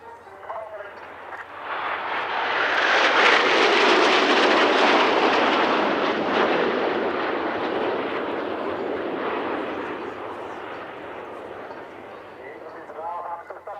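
Jets of the Patrouille Suisse aerobatic team roar past at the Cosford Air Show, a broad rushing jet noise that swells to a loud peak and then slowly recedes.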